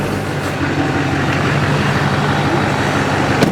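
An older diesel truck's engine runs steadily after an AirDog fuel pump install, a loud, close, continuous rumble with an even low drone and no break throughout.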